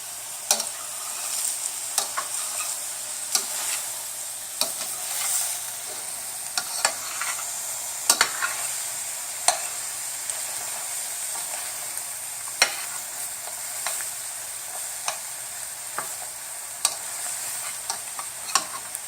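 Shrimp sautéing in a pot, a soft steady sizzle with a high hiss running throughout, broken by scattered light clicks and taps of stirring at an even, unhurried pace.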